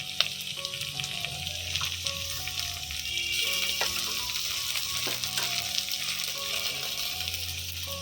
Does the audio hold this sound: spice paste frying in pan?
yes